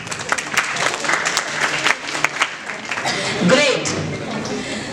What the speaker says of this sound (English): Can we have a good round of applause for Jia?